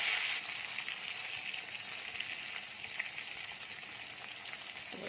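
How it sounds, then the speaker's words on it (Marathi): Capsicum peppers fry and roast in a hot pan, a steady close sizzle and crackle holding evenly throughout with no talking. "साईड बदलून पुन्हा ही छान दोन मिनिटांसाठी अशीच मस्त खमंग भाजून घ्यायची आहे"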